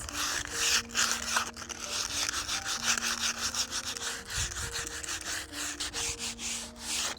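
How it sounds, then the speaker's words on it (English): Scraper dragged over a painted wooden surface to take it back to the stain beneath, a steady rasping scrape in repeated strokes, close and fairly loud, with no voices. "on the main section, I just want to scrape some areas more than others"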